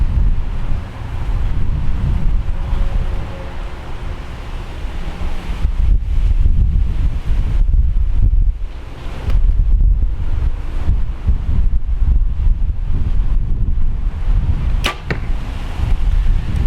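Wind blows outdoors at an archery range, a continuous gusty roar buffeting the microphone that surges and eases in waves for the whole stretch.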